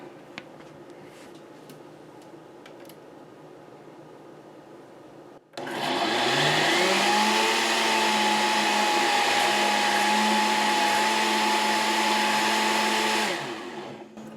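A blender whirs loudly and steadily, blending beans with salt and pepper for a Honduran breakfast, starting abruptly after quiet room noise and running for about eight seconds before stopping.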